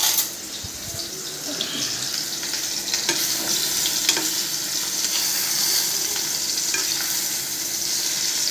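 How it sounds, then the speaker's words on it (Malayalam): Banana fries in hot ghee with a steady bright sizzle and crackle, a few faint utensil scrapes over the constant hiss, close and moderately loud. "നമുക്കത് നന്നായിട്ട് നെയ്യിൽ വണങ്ങി വരണം."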